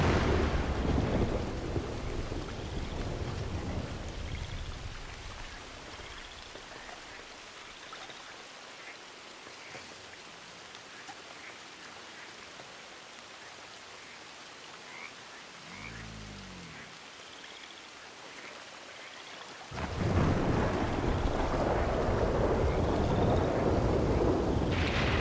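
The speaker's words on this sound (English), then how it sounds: "Like this storm, you guys, it's freaking me out." A thunderstorm with rain in Red Dead Redemption 2: steady rain hiss with rumbling thunder, a deep roll midway and a loud heavy burst of rain near the end, no talk.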